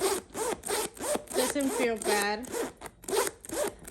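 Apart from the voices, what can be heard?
zipper opening on a bag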